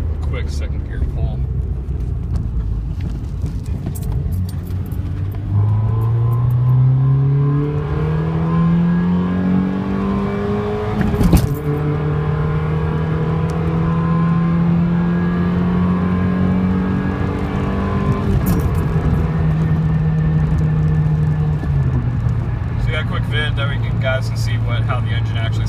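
A 2005 Honda Civic EM2 with a Y8 manifold revs hard in a second gear pull, its engine note climbing steadily and crossing into VTEC, easing off near the end. The sound is loud and close, with a brief thump midway.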